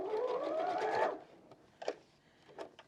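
Sewing machine running a 2.5mm straight stitch on fabric for a dog toy, a quick whirring burst lasting about a second that rises in pitch, followed by quiet scattered clicks and taps.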